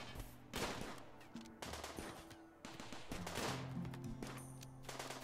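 Rimworld colonists fire on raiders in bursts of rapid, sharp in-game gunshots, several volleys in quick succession with brief gaps between, loud and close, with no talking.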